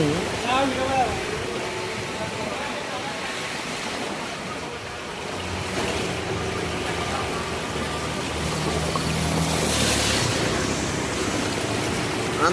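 Floodwater surging into homes during unseasonal winter rain, a steady broadband rush and wash of water that swells louder toward the end, with people talking over it.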